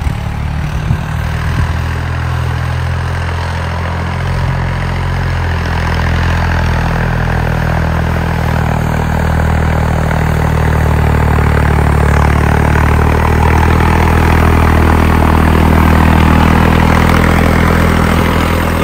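A Deutz-Fahr 70 hp tractor with a power upgrade runs steadily at close range, a loud, deep diesel drone with a continuous throb that holds even and slightly builds over the stretch, no voices.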